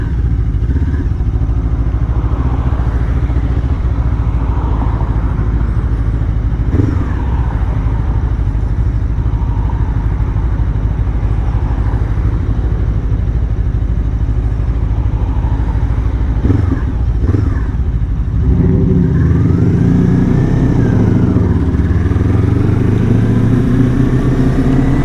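A Lifan KPT 400 motorcycle fitted with a 43-tooth rear sprocket, ridden on a hot day: loud, steady engine drone with wind rush throughout, and a clear rising rev as it accelerates near the end.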